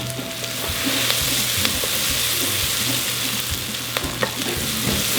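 Chopped onions sizzling in olive oil in a pot, a steady loud frying hiss with occasional stirring clicks and scrapes, close up and continuous with no talk.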